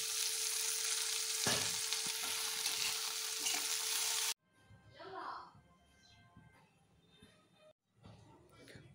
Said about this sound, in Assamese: আৰু এই তেলতে মই গোটেইখিনি বস্তু দি দিলো এইখিনি ভাজা হৈ আছে